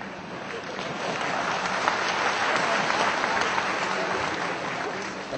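Dense, sustained audience applause, a steady wash of many hands clapping at once without pause, loud and close throughout, at a Gujarat government event with journalists present.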